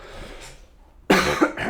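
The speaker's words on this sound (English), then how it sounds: "Sorry, got a little bit of a cough here." A single hoarse cough bursts out after a quiet stretch, close and fairly loud, followed by a second shorter cough and throat sound.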